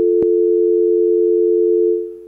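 A telephone dial tone after a dropped call, a single steady loud tone near and alone, with one brief click at the start and a quick fade at the end.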